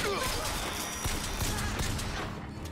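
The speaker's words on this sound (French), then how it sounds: "Une balle pour enlever le casque, une balle pour le tuer." Gunfire in Bioshock Infinite: a few quick shots and a brief burst ring out amid in-game noise, fairly faint, while someone speaks French over them.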